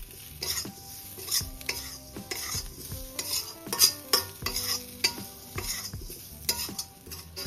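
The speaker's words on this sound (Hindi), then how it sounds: "आलू सहित धनिया पत्र को आम भल भाव में मिक्स करना" Fried potatoes coated in besan with fresh coriander leaves being stirred in a pan, a steady run of spoon scrapes and clinks against the metal with a light sizzle underneath, close and moderately loud.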